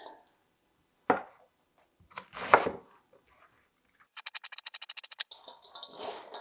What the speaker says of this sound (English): we haven't even finished chopping the entire cabbage yet